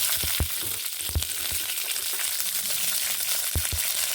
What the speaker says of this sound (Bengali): এবার এখানে এই তেলে আমি বিনসগুলোকে ভেজে নেব